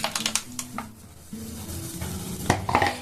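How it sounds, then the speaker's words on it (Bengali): Blended mango pulp mixed with batasa sugar drops goes into a kadai wok for mango leather. Close-up metallic clinks and scraping come from the utensil against the wok, along with soft stirring and a faint sizzle. "বেটে নিয়েছি, দেখুন দিয়ে দেবো আমি একটা কড়াইয়ে"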